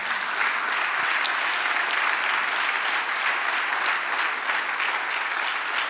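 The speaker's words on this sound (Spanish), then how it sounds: "Dale un aplauso al Señor." Congregation applauding during a church sermon, a steady, dense wash of clapping that holds at an even loudness throughout.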